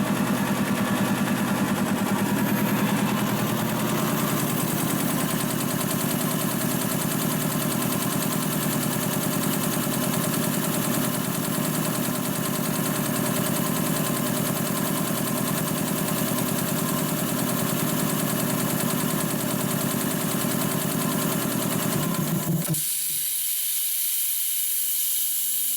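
An industrial two-stage air compressor runs loud and steady for over twenty seconds as it pumps back up, then cuts off abruptly into quiet with a faint hiss after the stop.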